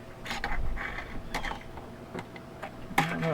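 An old slotted screwdriver works star-slotted screws on a Compaq ProLiant DL380 server, giving irregular close creaks, scrapes and small metallic clicks as the blade slips and turns, with no voices.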